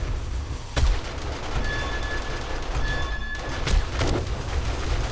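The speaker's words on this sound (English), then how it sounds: "The mines are going." Land mines go off among a zombie horde in 7 Days to Die, a few heavy booms punching through a dense rumbling, crackling din of distant combat, with one clear blast early and two more near the end.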